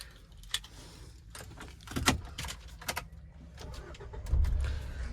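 A car being started with the key: keys jangle and click sharply, then the engine cranks and catches into a low running rumble near the end.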